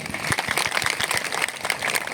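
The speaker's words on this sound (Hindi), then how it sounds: "तो सबसे पहले आप अपने लिए एक बार ताली बजा करके अभिनंदन करिए" A crowd at a reservation rally in Pratapgarh claps together, a dense, steady patter of applause lasting a couple of seconds with no talking over it.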